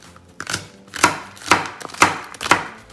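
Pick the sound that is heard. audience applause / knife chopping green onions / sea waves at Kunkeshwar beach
knife chopping green onions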